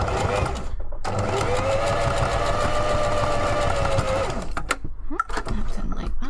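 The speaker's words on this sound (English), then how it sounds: "I do this while I'm actually sewing the paw pad together instead of separately" A sewing machine stitches a fursuit paw pad in a steady, fast-running burst of about three seconds. Then it stops, leaving a few short clicks and rattles.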